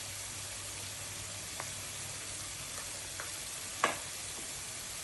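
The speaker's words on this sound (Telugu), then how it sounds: "ఉల్లిపాయలు కూడా వేసేసుకొని ఇవి మొత్తం బాగా వేయించుకోవాలి" Onions frying in a pan for a mushroom curry, a faint, even sizzle with a few soft scrapes and one louder clack of a spoon toward the end.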